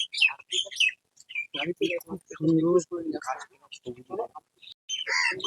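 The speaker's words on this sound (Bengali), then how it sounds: "চারিদিকে উপরে পাখি কিচিরমিচির করছে" Birds chirp in quick, bright bursts nearby, scattered between stretches of someone talking, inside Koikhali ashram in the Sundarbans area near Kolkata.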